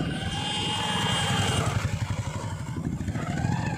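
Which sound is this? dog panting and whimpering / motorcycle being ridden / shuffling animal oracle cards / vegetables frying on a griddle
motorcycle being ridden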